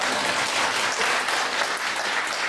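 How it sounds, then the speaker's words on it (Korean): Lecture audience applauding at an academic history and culture conference in Busan, a continuous, even wash of many hands clapping with no break. "박수 부탁드립니다"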